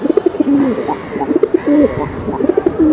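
Silver beji pigeons of the palla line coo repeatedly at close range, soft rhythmic rolling calls overlapping in steady bursts with no talking.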